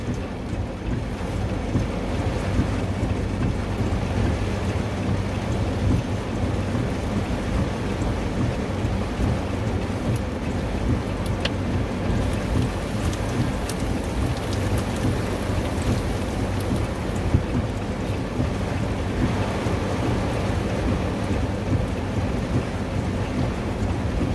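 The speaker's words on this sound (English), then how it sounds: "very, very heavy thunderstorm going on. Downpour, torrential rain." Heavy rain pours down in a dense, steady roar, with thunder rumbling through the downpour and wind buffeting the microphone.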